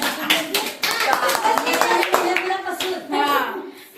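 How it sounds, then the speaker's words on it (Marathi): Several people clap their hands in quick, uneven bursts, with children's voices talking and calling out over the claps in a lively village setting. "हे टाळ्या वाजवा."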